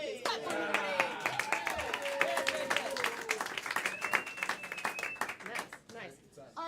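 Improv comedy show audience clapping as the first two players come up, a steady spatter of applause with voices and a whistle-like tone riding over it.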